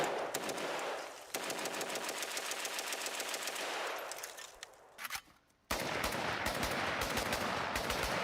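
Bump-fired rifle letting off long, rapid automatic bursts, loud and close, with a short break and drop in level before the fire resumes at full intensity.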